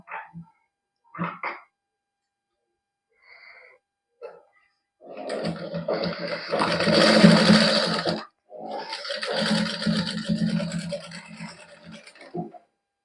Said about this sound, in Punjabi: ਇੱਕ ਸਲਾਈ ਇਧਰਲੀ ਸਾਈਡ ਲਾ ਦੇਣੀ ਆ ਫਿਰ ਦੂਸਰੀ ਸਾਈਡ ਤੇ ਲਾ ਦੇਣੀ ਆ